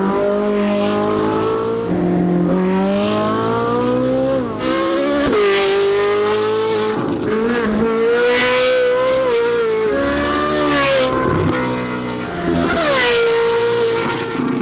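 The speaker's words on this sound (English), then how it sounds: "Welcome to the Ferrari 458 exhaust shootout." A high-revving Ferrari 458 engine screams through rising and falling gear changes, loud and close, with sharp crackles between revs from the exhaust.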